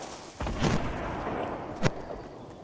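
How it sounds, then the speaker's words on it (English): Scattered gunshots and heavy booming impacts in Fortnite, a few sharp cracks standing out over a rumbling, noisy battle backdrop. "I'm taking heavy fire!"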